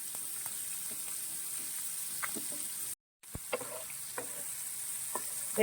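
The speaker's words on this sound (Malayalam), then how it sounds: "അങ്ങനെ നമുക്ക് മൊത്തം മീനെ ഒന്ന് മറിച്ചിട്ട് ഫ്രൈ ചെയ്തെടുക്കാം." Chooda fish shallow frying in a pan, prepared Kerala style, makes a low continuous sizzle broken by a brief gap and scattered clicks as pieces are turned.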